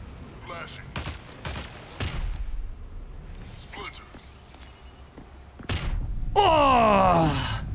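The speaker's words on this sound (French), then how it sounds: "Ça tire de fou, là." Gunfire in the Spectre Divide shooter game comes in sharp, loud bursts of separate shots scattered across the span, with players' voices talking between them and a crackling effect near the end.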